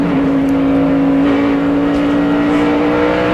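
NASCAR Busch Series stock cars racing in the 2002 Food City 250 at Bristol Motor Speedway, a loud, steady engine drone holding one sustained pitch with the constant roar of the field behind it.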